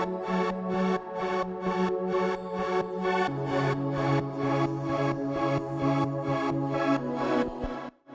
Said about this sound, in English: it's just this pad digital drift, but super cool